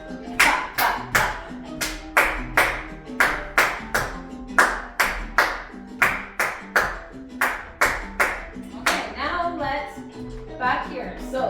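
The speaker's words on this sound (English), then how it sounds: "Clap, clap, clap." Hands clapping a steady dance rhythm in sharp, loud, evenly spaced claps, a dozen or more in a row, trailing off into softer taps near the end.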